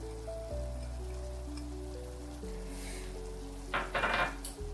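Coconut pieces tossed into a hot pan for a country chicken coconut curry, giving a faint crackling sizzle over sustained background tones, with a brief louder burst of frying near the end.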